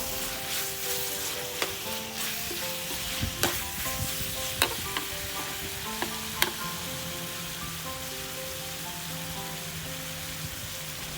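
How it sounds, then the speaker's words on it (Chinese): Chicken thigh meat for Thai red curry stir-fries in a pan until its fat renders, a steady close sizzle broken by scattered scrapes and clicks of the spatula, with faint tonal music underneath. "我们要炒到这样鸡腿肉出现鸡油哦"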